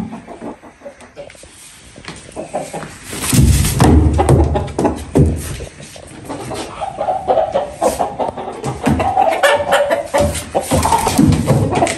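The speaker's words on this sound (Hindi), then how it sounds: "देखो मुर्गे" Aseel roosters and hens cluck and call nearby amid thumps and shuffling, with a person talking over the birds.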